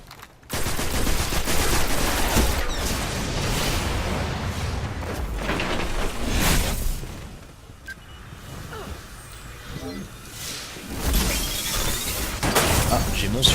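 Video game Destiny combat: sustained loud rapid gunfire with shattering bursts and grenade explosions, a brief lull midway before the shooting resumes, with a voice talking over it.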